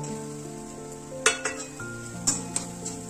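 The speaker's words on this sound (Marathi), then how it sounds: "चांगलं मस्त हलवून घ्यायचं, मिक्स करून घ्यायचं." A spoon stirs precooked yellow rice with butter in a hot pan, giving a soft sizzle under a few sharp metal clinks and scrapes against the pan, close and without speech.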